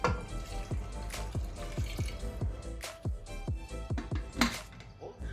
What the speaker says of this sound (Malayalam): ഇതിലോട്ട് 1/2 ഗ്ലാസ് വെള്ളം കൂടി ഒഴിച്ച് കൊടുക്കാം.